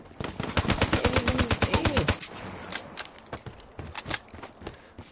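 Rapid automatic gunfire in the Call of Duty Black Ops 3 beta, a close, loud burst of evenly spaced shots for about two seconds, followed by scattered single shots and impacts.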